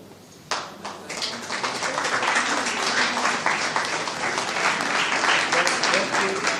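Audience applause for the permanent technical secretariat staff at the CONFEMEN 60th anniversary celebration, a sudden burst of dense clapping that starts after a brief quiet moment and holds steady and loud throughout.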